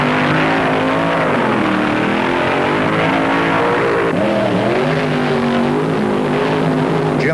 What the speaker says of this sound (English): As the awesome sound of the top fuelers echoed in the staging area